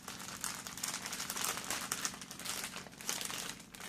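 White tissue paper crinkling while a Millennium Falcon model kit is unboxed, a continuous close rustle and crackle of crumpling paper.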